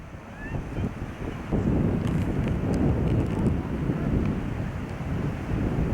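Strong outdoor wind at Hopewell, Nova Scotia buffets the microphone with a continuous loud low rumble throughout, steady with slight surges and no clear talk over it.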